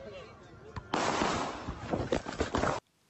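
Rapid gunfire from a news report plays in a loud, dense burst for about two seconds, with several sharp cracks standing out, then it cuts off abruptly into near silence.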